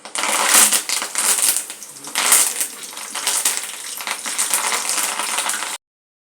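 Green chillies and curry leaves fry in hot oil for poha chivda, crackling and spitting loudly in dense bursts close by, then cutting off abruptly.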